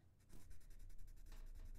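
A pencil tip is rubbed quickly back and forth on paper to blunt it, making a soft, close scratching with a rapid, even stroke rhythm of about ten strokes.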